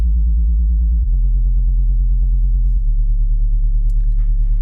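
A steady, sustained low synth tone wobbles rapidly as a fast LFO lightly sweeps its filter cutoff, with the pitch stepping down midway and a faint higher texture entering near the end, no voices.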